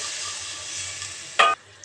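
Onions and spices frying in a pot for a chicken curry, a steady hiss of sizzling oil broken by a short, sharp loud burst as a splash of water hits the hot pan, then settling back.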